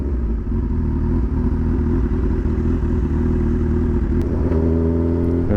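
A motorcycle ridden on a road slows down as the rider downshifts. The engine drones steadily and close throughout, with a rising rev near the end, and no talk over it.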